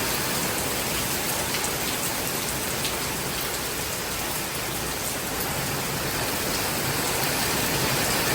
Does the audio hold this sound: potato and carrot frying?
no